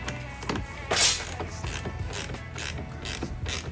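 Clicks, creaks and plastic ratcheting from a mud flap being pushed into place on a Tesla Model Y, a close run of irregular snaps with one louder crack near the start.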